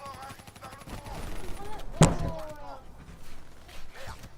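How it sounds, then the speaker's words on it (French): Gunfire in the video game Black Ops 3, with one loud sharp shot standing out amid scattered lighter battle noise, heard under ongoing talk. "Il y a des balles de partout. C'est la guerre."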